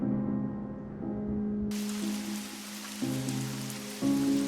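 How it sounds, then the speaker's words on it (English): Heavy rain pours down steadily, a dense continuous hiss that swells in intensity partway through, heard alone with a faint low tonal background underneath. "Rain poured down mercilessly, drenching everything it touched"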